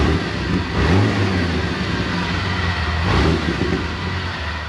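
A Jeep 4.0L engine running without coolant, a steady mid-pitched drone with two brief revs swelling over a constant rumble, fairly loud and close, no talking.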